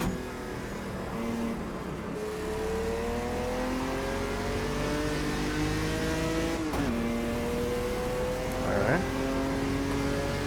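Opala stock car engines from 1979 and 1986 roar through a race in Automobilista 2, a steady loud drone with pitch climbing through gears, dropping on shifts and braking, with other cars' engines layered beneath.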